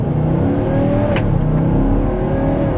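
Nissan's 5.6-liter V8 car accelerates hard, a loud, close engine roar with its pitch climbing steadily over a few seconds before cutting off abruptly.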